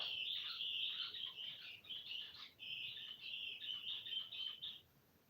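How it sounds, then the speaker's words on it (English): An outdoor bird near a home workshop chirps in a rapid, high trilling series, with short bursts and pauses over several seconds, fairly faint and heard alone with no talk. "Someone's going to ask me what kind of bird that was."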